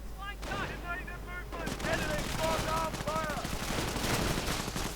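Bursts of machine-gun fire and scattered gunshots in a real-time strategy game, sharp and fairly quiet, repeating in quick clusters over a low hum while a commentator talks.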